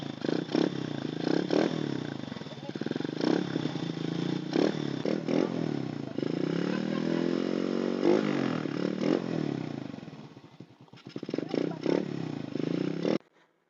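A Honda XRM125 motorcycle engine fitted with a DC CDI runs close by, its uneven idle rising and falling with several revs, dropping near the end before picking up again, while a person talks over it.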